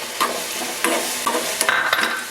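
Semolina (rava) tipped into boiling salted water in a pan and stirred for a small single-serving uppuma, with a few quick scraping, swishing strokes over a soft sizzle and no talking.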